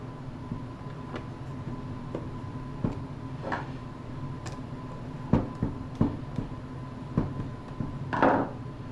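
Screws are driven into a plastic flasher storage insert kit, giving soft intermittent clicks and taps over a low steady background hum, faint and close.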